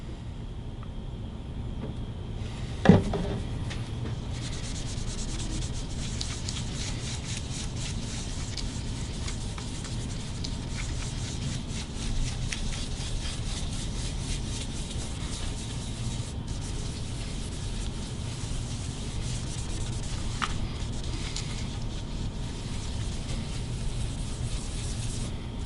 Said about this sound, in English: Yellow rag, yellow stain, we'll wipe that top.